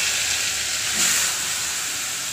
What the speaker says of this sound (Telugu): ఇక్కడ పోపు వేస్తున్నానండి